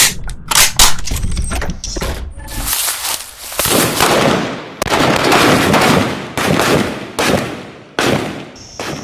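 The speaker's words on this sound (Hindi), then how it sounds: "असली गोलियां अभी ये पिस्टल से फायर करेंगे" Rapid bursts of real pistol and rifle fire at a military small arms firing range, loud sharp cracks in quick irregular succession with echoing tails, close to the listener and continuing throughout.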